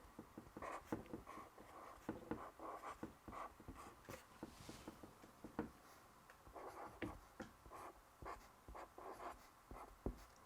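A sentence is handwritten, probably pencil on paper, heard as quiet, close scratching strokes in short irregular bursts with pauses between words, no talking.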